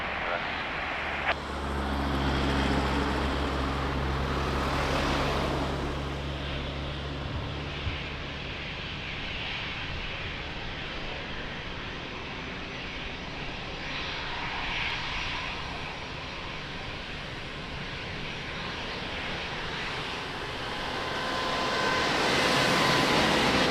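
Airliner taking off from runway 02 at Lisbon Airport, a low roaring engine rumble that swells and fades at a distance, with air traffic control radio talk over it.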